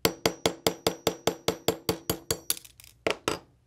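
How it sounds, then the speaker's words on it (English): A hammer taps a 3/32 inch punch on a bench block to drive a pin from a Ruger LCP pistol, about a dozen sharp, evenly spaced metallic clinks followed by a pause and two louder strikes. "Go ahead and give it a few taps."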